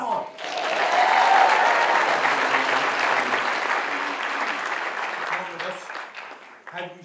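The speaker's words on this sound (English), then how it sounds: "A round of applause. Come on." An audience at a live comedy night bursts into sustained, loud applause that swells, holds for several seconds and then tapers off.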